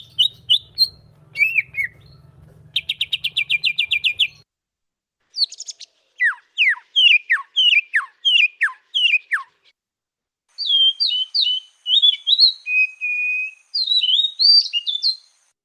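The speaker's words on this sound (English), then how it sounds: "you would imagine those are the call of some of Southeast Asia birds" Bright calls of Southeast Asian birds in bursts: rapid trilled chirps, then a series of descending whistled notes, then warbling phrases, with short silent gaps between.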